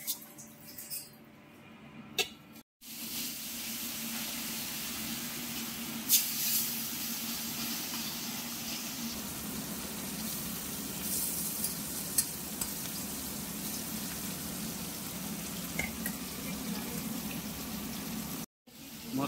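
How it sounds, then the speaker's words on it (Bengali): Tangra fish fry in hot oil seasoned with salt and turmeric, giving a steady, dense sizzle that runs continuously with occasional stirring clinks. Two brief dropouts break it, and no one speaks. "এখানে ট্যাংরা মাছগুলো ভাজাও হয়ে গেল"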